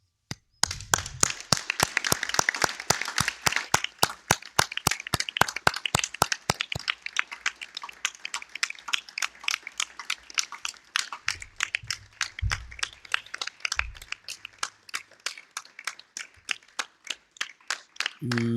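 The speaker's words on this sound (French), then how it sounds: "je vous propose une minute d'applaudissement." At a municipal council meeting, the room gives a minute of applause as sharp, evenly spaced claps in a strong steady rhythm. The clapping is loud at first and thins toward the end, with faint murmurs underneath.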